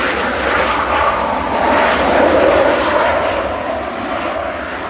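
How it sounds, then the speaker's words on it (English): A Ryanair airliner from Milan rolls out on the runway at Manchester Airport, a loud, broad engine roar that swells and eases slightly while staying close and continuous. "Ryanair 6817 from Milan, just rolling out."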